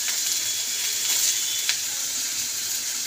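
Banana stem and potato sizzling steadily as they fry in a pan with cumin, a continuous close hiss with faint crackles and one soft clink, no voices.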